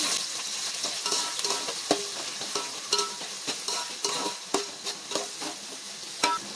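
Onion and carrot pieces cooking in oil for Hyderabadi bagara rice: a continuous soft sizzle under repeated spatula scrapes and taps against the pan at an irregular, unhurried pace, close up, with no talking.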